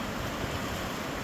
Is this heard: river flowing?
yes